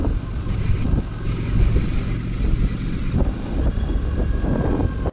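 A car engine while driving at a steady, constant throttle, a low rumbling drone with road and cabin noise, continuous and moderately loud throughout.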